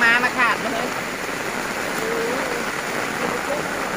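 Rain falls steadily over an outdoor Thai market, a dense, even hiss up close, with a short burst of voices at the start and faint chatter underneath.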